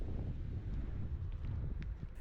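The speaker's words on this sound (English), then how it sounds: "it was pretty windy up there" Steady wind buffets the microphone at the rim of Mills Canyon in New Mexico, a continuous low rumbling roar with no voices.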